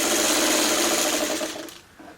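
A sewing machine stitching fabric triangles for a Friendship Star quilt block runs steadily and close for about a second and a half, then winds down and stops, leaving a brief quieter tail.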